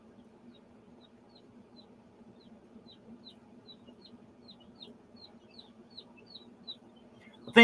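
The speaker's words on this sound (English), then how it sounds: "I thought you had enough chickens, Judy." Chickens cluck softly in a repeated, irregular series of short calls, fairly faint against a low steady hum, ending with a sudden louder knock.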